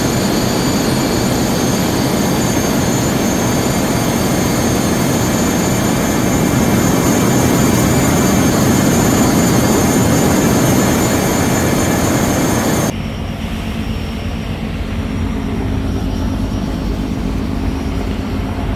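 Loud, constant droning engine and hull rumble fill a passenger launch on the river from Barisal to Dhaka, then drop abruptly to a lower, muffled hum as the surroundings change.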